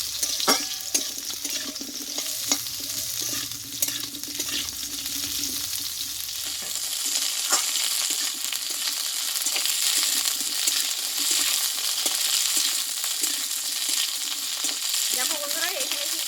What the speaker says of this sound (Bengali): কালো ফুলকপিটা প্রায় কষানো হয়েছে